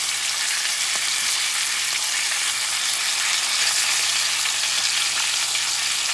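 Bison porterhouse steak sizzles in a pan with butter and garlic, a steady loud hiss and crackle of frying that continues without pause, no voices over it.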